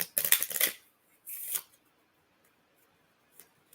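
Deck of playing cards shuffled during a two-player deck-building golf card game: a brisk riffling burst, then a second shorter riffle, followed by near silence with a faint tap near the end.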